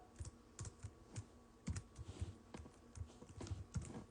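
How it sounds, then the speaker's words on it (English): Rapid clattering keystrokes on a computer keyboard, irregular bursts of clicks tapping close by in a quiet room. "I'm just typing my Instagram just in case, my social media"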